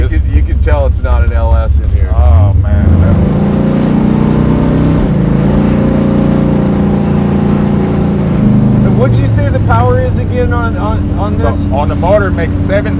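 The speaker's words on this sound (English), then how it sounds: "God, the car sounds. Watch when you get on it though." A 700hp naturally aspirated big-block Camaro, an old-school muscle car, idles with a deep rumble and then revs up and back down in swelling surges. People talk close by over the engine.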